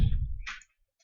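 A single sharp computer mouse click, close and crisp, preceded by a low thud and followed by a faint second tick.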